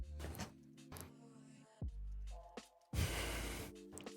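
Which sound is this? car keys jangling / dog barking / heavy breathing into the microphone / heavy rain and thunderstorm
heavy breathing into the microphone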